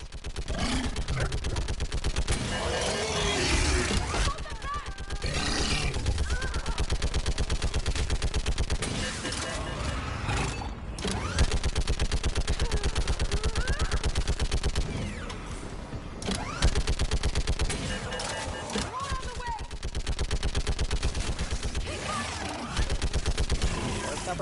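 Gunfire in the Mass Effect Legendary Edition video game, dense repeated bursts of automatic shots in long stretches broken by short gaps, loud and close, with voices talking over it.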